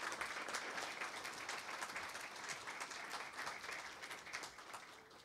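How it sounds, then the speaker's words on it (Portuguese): Audience at the opening of a Brazilian tax litigation congress gives a round of applause, a soft, even wash of many hands clapping continuously, distant and fairly quiet. "Uma salva de palmas."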